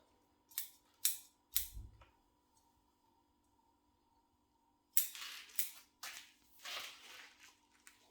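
Sharp snips of pruning scissors trimming a mallee bonsai tree, first three separate crisp cuts, then a quick run of several snips after a pause, close and clear.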